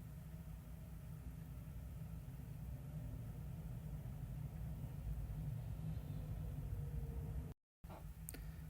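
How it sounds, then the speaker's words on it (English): A digger at a Notting Hill house basement conversion loads soil onto a conveyor belt, heard as a continuous low engine rumble and machinery drone at middle distance, steady throughout apart from a brief gap near the end, with no talking. "Here we have Greg using the digger to load the belt, which will then be transported directly onto a waiting truck"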